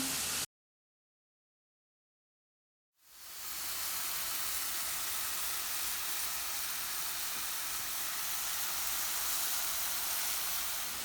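Steady hissing sizzle of sliced bananas pan-frying on a stovetop, starting abruptly after a short silence and holding an even, close, unbroken frying noise.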